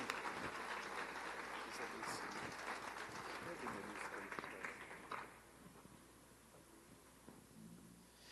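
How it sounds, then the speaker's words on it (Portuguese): A church congregation claps together in a dense, steady wash for about five seconds, then the sound thins to a quieter patter with voices mixed in underneath. "Você pode aplaudir ao Senhor"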